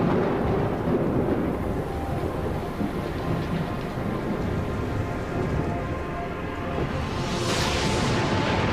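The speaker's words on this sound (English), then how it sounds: "The heavily laden storm clouds would have produced a deluge of hot, acidic rain that continued for millions of years." A thunderstorm with heavy rain, a dense, loud, continuous roar of downpour with low rumbling thunder beneath it, sustained throughout and swelling slightly near the end.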